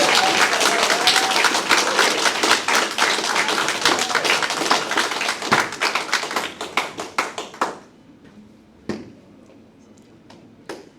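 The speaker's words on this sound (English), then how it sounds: "I was going to say you could please clap for that." Audience applause at a special constables' closing ceremony, brisk and dense at first, then thinning into scattered individual claps that trail off into near quiet with a few late claps.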